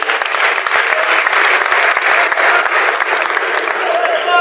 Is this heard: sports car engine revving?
no